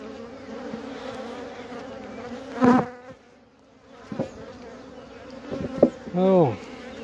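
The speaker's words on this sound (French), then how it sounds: "Oui, encore un petit peu d'abeilles." Honeybees at a queenless swarm hive make a steady close buzz, with several louder bees zipping past the microphone in short bursts.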